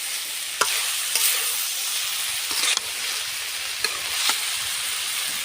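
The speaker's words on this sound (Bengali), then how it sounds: "এভাবে কিছুক্ষণ পরে নেড়ে দিচ্ছি ভাজিটা অনেক সুন্দর হচ্ছে" A pan of fried Malabar spinach (pui shak) stems sizzles and hisses steadily while being stirred, with a few brief scraping knocks of the spoon against the pan, close and fairly loud, no talk.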